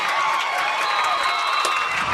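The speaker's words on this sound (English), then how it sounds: "Crowd's loving it." Football crowd at a Farmington Knights varsity high school game against Cape Central cheering after an interception, a loud sustained roar of voices with shouts rising and falling throughout.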